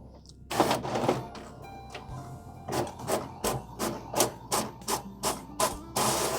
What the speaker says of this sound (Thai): กดเริ่มการสแกนได้เลยครับ